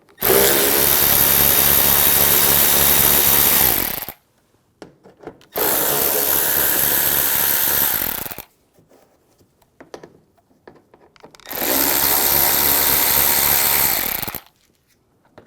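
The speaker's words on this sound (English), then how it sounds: "We're going to remove these bolts using an 8mm socket." Three long, loud whirring bursts from a power tool with an 8mm socket driving out bolts on a 2009–2013 BMW 328i xDrive during headlight washer pump work, separated by short near-silent pauses.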